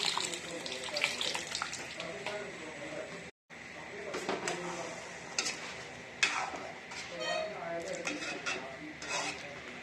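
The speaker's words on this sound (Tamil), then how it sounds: "அதுக்கப்புறம் நம்ம புளி கரைசல் ஊற்றிக்கலாம்" Tamarind water is poured into a simmering pot of sundakkai kara kulambu made with turkey berries, giving a splashing, gurgling pour with clinks and stirring and a brief break in the middle.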